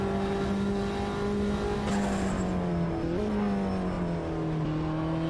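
Four-wheel-drive race car engine in the Automobilista 2 racing sim, a loud steady drone held close throughout with slight pitch dips at shifts, no speech.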